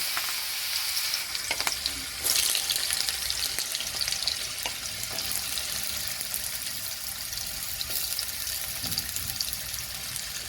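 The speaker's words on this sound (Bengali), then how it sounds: "এই তেলের মধ্যে আমি প্রথম গাজর কুচিগুলো দিয়ে দেব।" Chopped carrots sizzle in hot oil in a pan while cooking a Bengali vegetable dal, a steady close hiss and crackle throughout with a few brief clinks and no speech.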